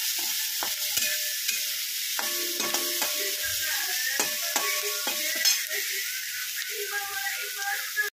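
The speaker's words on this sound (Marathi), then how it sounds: "त्यामध्ये थोडीशी हळद टाकणार आहोत, तर छान असं परतून घेणार आहोत।" Onion sautéing with turmeric in a pan, a steady close frying sizzle under repeated clinks and scrapes of a spatula stirring against the pan in an irregular rhythm.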